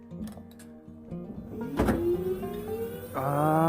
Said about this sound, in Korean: 이 고수작업차가 말을 잘 들을란가 모르겠네